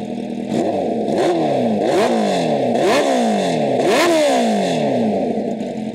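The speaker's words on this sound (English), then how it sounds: "You know, a few revs." A Kawasaki Ninja H2R motorcycle, started cold and idling on a chilly day, revved hard about five times in quick succession, each loud, close sweep rising and dropping back over a steady engine note.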